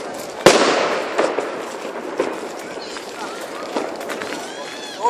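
New Year fireworks bursting in a Stockholm park, one sharp near bang followed by scattered crackles and more distant pops, with whistling rockets toward the end and people talking throughout.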